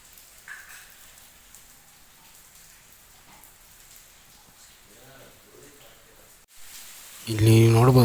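Heavy rain falls at the Rameshwara temple complex in Keladi as a soft, continuous hiss, and a louder voice cuts in at the very end.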